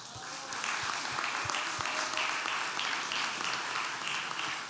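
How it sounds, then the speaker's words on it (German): Applause from an audience for young folk musicians at a music contest, a steady wash of clapping that swells after a few opening thumps and holds evenly. "Das ist ein Applaus wert."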